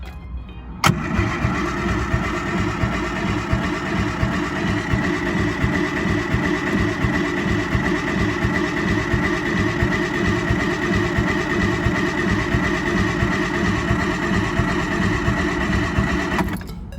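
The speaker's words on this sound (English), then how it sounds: "we're going to give it a crank quickly and see if it will start" Triumph Spitfire fitted with a GT6 six-cylinder engine cranking steadily without catching, the starter's rapid rhythmic churn running unbroken for about sixteen seconds and then cutting off.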